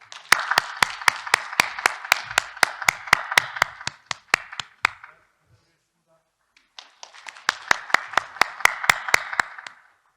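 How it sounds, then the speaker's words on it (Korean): Audience clapping in a slow, synchronized rhythm welcoming a guest lecturer at a university association general meeting, crisp evenly spaced claps that stop for a pause, then resume in unison. "큰 박수로 맞이해주시기 바랍니다."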